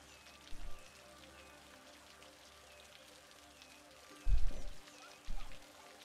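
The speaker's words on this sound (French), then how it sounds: "La pluie" Rain in the city-building game Cities: Skylines, a steady soft patter of drops on surfaces running throughout, broken by a few brief louder low thumps.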